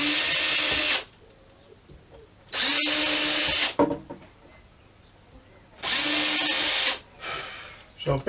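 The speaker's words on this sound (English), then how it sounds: "drill some pilot holes and whack some screws in" Power drill boring pilot holes into a wooden baffle board in three loud, whining bursts of about a second each, separated by quieter gaps with small knocks and handling noises nearby.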